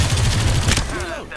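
Gunfire in the battle royale game Farlight 84, a rapid burst of loud shots in quick rhythm, close up, trailing off as a synthetic tone sweeps in at the end.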